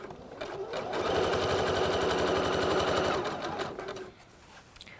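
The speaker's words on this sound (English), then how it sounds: "I'm going to do a zigzag stitch for this and start sewing." A sewing machine runs a zigzag stitch while sewing trousers, a fast even mechanical clatter that speeds up, holds steady for a few seconds, then slows and stops, close and alone.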